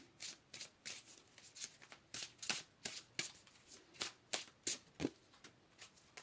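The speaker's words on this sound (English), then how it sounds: "Let's pull another card here for group number 1." Tarot cards shuffled by hand in a quick, rhythmic run of soft riffling slaps, about a dozen bursts close to the mic and fairly quiet, with no speech.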